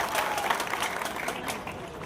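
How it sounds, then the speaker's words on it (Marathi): An audience at a public gathering breaks into strong applause, a dense patter of many hands clapping together, close and continuous throughout. "त्यांच्यासाठी आपण जोरदार टाळ्या वाजवाव्या।"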